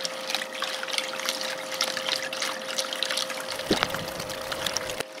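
Water flows steadily through a vortex trap riffle sluice used for separating gold from black sand, a continuous rushing trickle with a faint hum and a brief splash near the end, close by with no speech.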